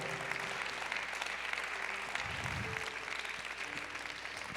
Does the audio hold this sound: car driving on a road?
no